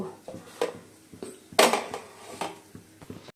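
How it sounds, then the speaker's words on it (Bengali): A lid goes over kneaded flour dough, with a few close metallic clinks and taps of pot and lid, one sharper clatter standing out among lighter knocks. "ময়দাটা মেখে নিয়েছি, চলো ঢাকা দিয়ে রাখি"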